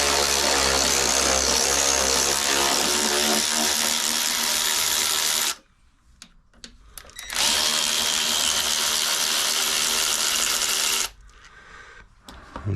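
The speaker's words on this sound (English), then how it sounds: "We'll get the electric ratchet on here." An electric ratchet works on the rear brake of a Suzuki V-Strom 1000 motorcycle, buzzing loudly in two long bursts of about five and four seconds separated by a short quiet gap with light clicks.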